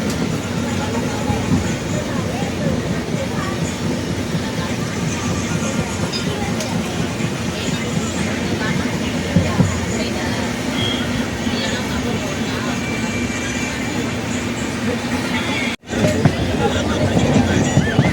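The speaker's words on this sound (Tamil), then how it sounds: "நாம் இப்போ அரியலூர் ரயில் நிலையத்துக்குள்ளே என்ட்ரு ஆகிட்டோம்" Pallavan SF Express rolling into Ariyalur railway station, heard from on board as a steady loud rumble of the train with faint chatter from passengers throughout.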